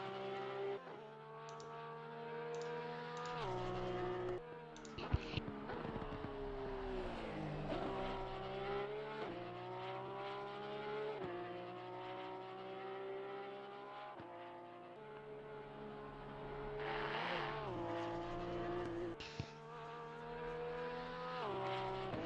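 Race car engine on the Bathurst circuit in a PS4 racing game, a loud steady drone rising through the gears and dropping on each shift, with brief tyre scrabble now and then.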